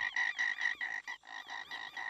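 A frog in the game Gorilla Tag croaks in a quick, regular series of raspy calls, fairly close and clear, with no voices.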